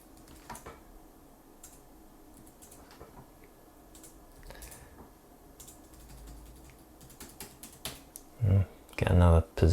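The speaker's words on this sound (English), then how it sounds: "Do it with the arrow keys." Computer keyboard arrow keys are tapped to nudge a character into position in Toon Boom animation software, a scatter of faint, irregular clicks, followed near the end by a few louder bursts.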